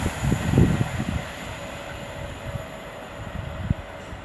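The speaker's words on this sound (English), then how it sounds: "390-005 passing by for Avanti West Coast, working 1 Foxtrot 26 from London Euston to Liverpool Lime Street." An Avanti West Coast Class 390 passenger train passes at Lichfield Trent Valley on the West Coast Main Line, with a burst of rumbling wheel thumps up close, then a fading steady rush as it recedes.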